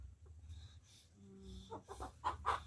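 Chickens cluck in short bursts amid a village scene, with quiet background rumble and a few sharper squawks near the end.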